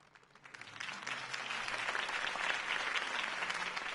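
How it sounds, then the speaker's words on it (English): Crowd applause in Batman: The Telltale Series after a Harvey Dent campaign speech, swelling from quiet to a sustained, dense roar of clapping that holds steady. "If only Mr. Wayne, my campaign's largest backer, could have heard that applause"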